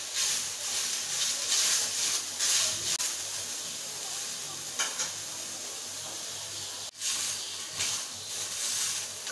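Onion, ginger and garlic sauté in a pan for a spicy Malvani chicken curry, a continuous close sizzle with stirring scrapes and brief pauses, no one speaking.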